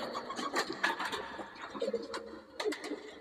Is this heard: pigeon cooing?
yes